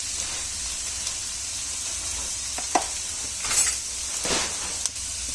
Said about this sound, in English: Do a thorough mix.